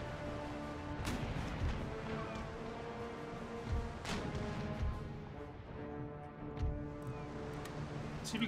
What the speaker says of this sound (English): just keep pumping shots into this ship